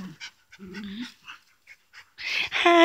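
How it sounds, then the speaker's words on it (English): A puppy pants in short quick breaths with soft whimpers, close by, ending in a louder whining yelp. "Oh, Brillo, she's just a puppy."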